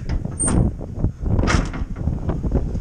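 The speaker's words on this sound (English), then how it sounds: "Lock the door." A door at the back of a trail hut on the Appalachian Trail is pulled shut and locked, with a few close knocks and clatters and a sharp metallic latch click in the middle of faint wind noise.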